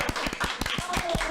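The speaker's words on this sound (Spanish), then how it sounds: "Vamos a darles un aplauso a ese nacimiento del Hijo del Hombre." An audience in a religious gathering claps, with a few distinct claps landing in a loose rhythm, close and fairly loud over a faint background murmur.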